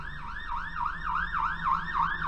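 An ambulance siren passes by, its wailing tone rising and falling in a quick, regular cycle, fairly loud and steady over faint background rumble.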